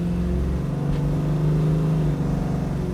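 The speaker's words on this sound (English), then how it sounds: "Listen to that exhaust, man. Sounding awesome." A 1968 Chevrolet Camaro's engine idles loud and close through its exhaust, a steady deep rumble with lumpy pulsing throughout and slight swells in pitch as it revs.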